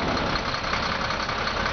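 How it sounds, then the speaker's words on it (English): A Volvo garbage truck with a recycling body idling steadily, a constant low engine rumble with no revving, close and loud with no voices. "the truck is sitting here just at an idle"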